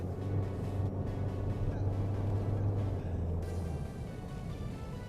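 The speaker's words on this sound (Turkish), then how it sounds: "İşte o bahsettiğim CVT şanzımandan kaynaklanan motor bağırması burada kendini gösteriyor" A Toyota Corolla Cross Hybrid with a CVT transmission climbs a ramp under heavy throttle, its engine holding a steady, loud drone over constant road and cabin noise.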